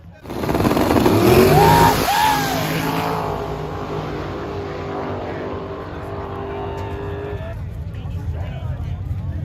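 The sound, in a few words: nitrous Camaro drag racing against turbo car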